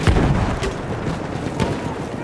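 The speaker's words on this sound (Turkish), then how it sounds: "Bomba gidiyor." A bomb explodes in the World War I shooter Battlefield 1, a heavy boom at the start with further distant blasts and gunfire rumbling through the rest of the battle noise.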